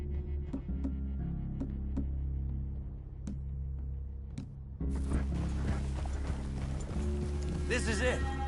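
Horses clip-clop across ground in a Western-themed video game, first as sparse hoof knocks over a low ambient hum, then a denser burst of hooves and movement, with people talking throughout.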